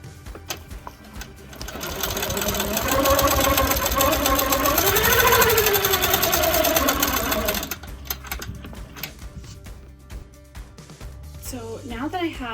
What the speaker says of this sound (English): I'm going to run a vertical line of stitching